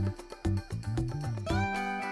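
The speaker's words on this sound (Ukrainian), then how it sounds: "Правильно, кішка." A domestic cat on a farmyard meows repeatedly in clear, close, tonal calls, several short cries in quick succession followed by a longer rising one, with no talking over it.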